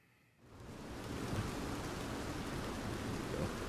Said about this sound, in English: Plus it's raining.